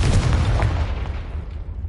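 A Confringo explosive spell in the video game Hogwarts Legacy goes off as a loud, heavy boom with a sustained low rumble that slowly tapers away.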